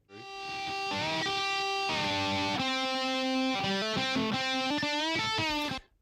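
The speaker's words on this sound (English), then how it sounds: "I'm going to look at the guitar solo." An unmixed electric guitar solo plays on its own with a sustained, distorted tone. Bent and held notes run continuously for about six seconds, then cut off sharply.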